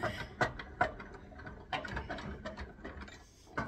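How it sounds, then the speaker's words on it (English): Metal bench vise being opened, its screw turning with a series of irregular ratcheting clicks and soft mechanical taps, close by and moderately quiet, with no one talking. "I'm going to open my vise up, because I'm going to put this in the vise."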